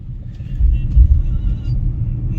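Road traffic jammed with cars and motorbikes on a street after rain, a steady low rumble of idling and slow-moving vehicles that swells briefly near the middle, with faint voices in the background.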